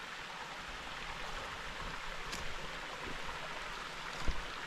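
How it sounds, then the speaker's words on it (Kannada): Steady rushing water of the Bhadra River flowing through forest at Kudremukha after rain, a broad continuous wash of sound with a faint knock near the end and no voices. "ಕಾಡಿನ ಮಧ್ಯ ಯಾವ ರೀತಿ ನದಿ ಹರಿತಾ ಇದೆ"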